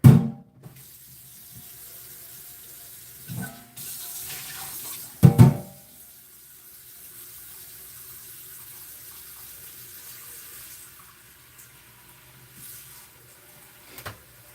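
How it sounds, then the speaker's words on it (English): Tap water runs steadily into a cast iron pot in a home kitchen, a low continuous hiss broken by a few knocks and clunks near the start and middle. "I'm gonna fill this pot. This is like a cast iron pot with water."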